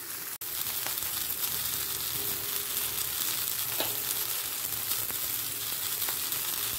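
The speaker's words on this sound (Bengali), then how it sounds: "হলুদ আর লবণটা সবজির সাথে মিশিয়ে নেব।" Winter vegetables and peas fry with salt and turmeric in a pan, a steady close sizzle broken by occasional spoon stirs and scrapes, with no speech.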